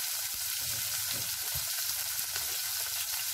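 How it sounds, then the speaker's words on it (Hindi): Green chilies crackle and sizzle in a little hot oil for tripole, with a steady close hiss and some soft stirring bumps, and no one speaks. "अब इस गरम तेल में हम मिर्ची को डाल देंगे"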